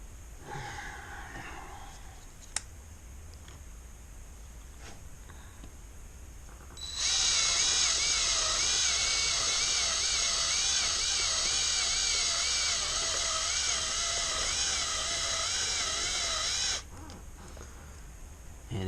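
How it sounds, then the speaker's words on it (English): A drill bores into a Yamaha XS650 engine to free a stuck pushrod bushing, a steady high grinding whine running for about ten seconds, close and loud, with quieter workshop clicks before and after. "drilling into the engine's complete"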